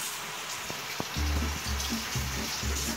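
A kitchen knife is rinsed under a running tap while making tomato dish, the water stream switching on after a couple of faint clicks and then splashing steadily and close for the rest of the moment.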